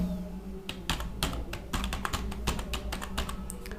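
Rapid typing on a computer keyboard, a steady run of sharp close key clicks in an uneven rhythm with brief pauses, including Enter key presses, heard alone without talk.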